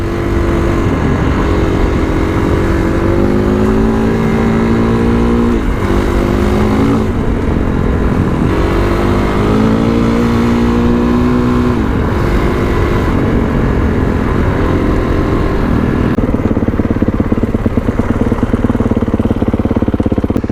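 Kawasaki KLX351 dirt bike engine revving hard during a burnout, loud and close, with repeated rising and falling rev sweeps over continuous engine roar and no speech.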